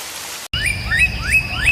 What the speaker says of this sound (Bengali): ওই দেখো, বলতে না বলতে বৃষ্টি এসে পড়েছে